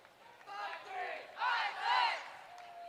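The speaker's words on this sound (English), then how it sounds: "let's see if they could be louder with 53-56 Team TARDIS." Audience at a FIRST Tech Challenge robotics qualifier cheering for a team, two loud surging waves of shouting and whooping from a large group, each swelling and fading.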